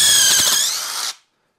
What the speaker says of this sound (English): Get your pilot bit, get it in the center, so don't drill it off center